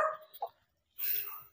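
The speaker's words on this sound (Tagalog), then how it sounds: "Uy, matapang yung aso." A dog gives a couple of short barks close by, then a brief pause and a louder harsh burst of barking or voice, with faint talk around it.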